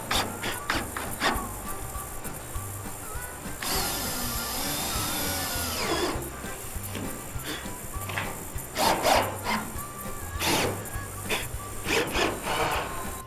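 Power driver sending screws into the valleys of metal roof panels on a pole barn, with short whirring bursts and a longer grinding run against scattered knocks and scrapes on the metal.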